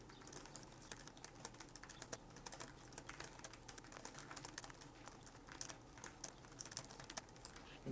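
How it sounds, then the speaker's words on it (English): Rapid, continuous typing on a laptop keyboard, light clicky keystrokes pattering at a fast, uneven pace, close and fairly quiet. "let's just test out the keyboard. Let's do a quick typing test"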